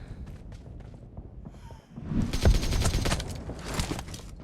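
An AK rifle firing on full auto in PUBG Mobile, a loud rapid burst of shots erupting after footsteps and movement, close and dominant in the second half.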